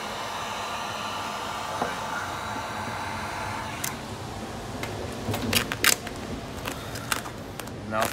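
A heat gun blows a steady whooshing hum while warming vinyl tint on a 2015+ Dodge Charger tail light, joined later by scattered crinkling and tapping as the film is worked around the edges.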